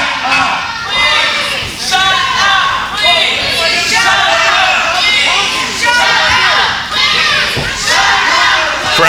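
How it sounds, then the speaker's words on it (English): A wrestling crowd at a PCW Limelight show chants "please shut up" in loud, steady unison, a dense wall of voices repeating the phrase without pause. "Crowd chanting, please shut up"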